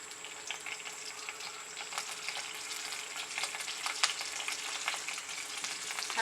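Curry leaves fry in hot oil for prawn sukka, a continuous close crackling sizzle with scattered sharp pops and a steady hiss throughout.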